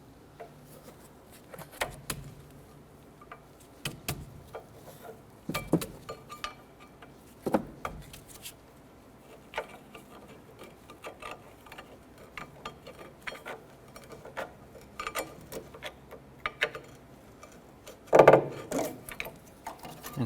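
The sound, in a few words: brake pads sliding out of caliper slide brackets, Chevy Impala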